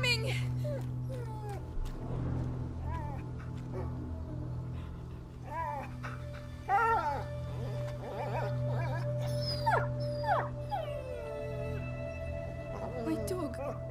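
Whines and yelps from a wounded dog in the video game A Plague Tail: Innocence rise and fall over a low droning backdrop. Game characters talk under the whimpers.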